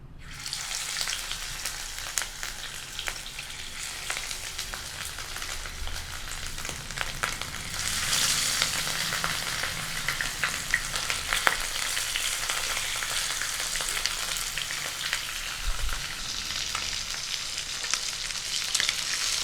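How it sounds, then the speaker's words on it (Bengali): Pieces of rohu fish fry in hot mustard oil for a Bengali macher jhol. A continuous crackling sizzle grows louder and denser partway through, with occasional spatters and pops. No talk is heard. "এবার মাছগুলো ভেজে নেব"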